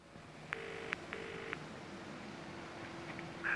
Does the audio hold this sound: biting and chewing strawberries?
no